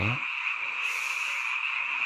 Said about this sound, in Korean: 이렇게 개구리들이 합창을 하는 소리가